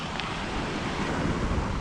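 Sea waves rolling onto a sandy beach in Crete, a constant broadband hiss of surf mixed with low wind buffeting, steady throughout with no speech.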